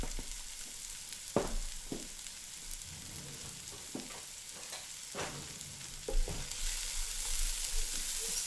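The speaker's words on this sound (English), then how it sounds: "So in goes the dried garlic, okay? A lot of it," Dried garlic, a generous amount, frying in a pan for a low-carb Asian moussaka, a quiet steady sizzle with occasional clinks and stirs, growing slightly louder toward the end, no talk.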